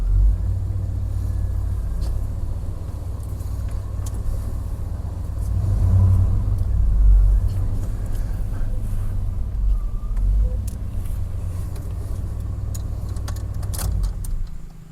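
An old car engine, started again after sitting for two years, idles with a steady low rumble that swells briefly midway, with no talking over it.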